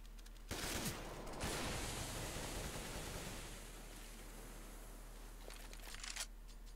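Grenade explosions in a Counter-Strike match on the Inferno map: a sudden loud, dense blast that roars for a few seconds, then settles into a long, noisy rumbling wash.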